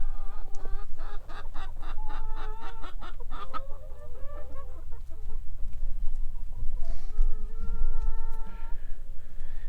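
Several chickens cluck in a busy, overlapping chorus close by, with bursts of higher calls and a steady low background hum.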